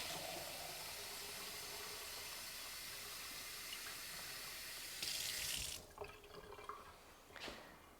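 Tepid tap water runs steadily from a faucet into a cup at close range, a constant rushing stream that turns briefly brighter and splashier before cutting off into a few drips and small clatters.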